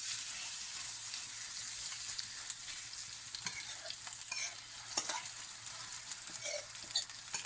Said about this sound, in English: All our vegetables and semolina going in.